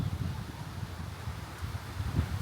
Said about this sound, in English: It's very windy already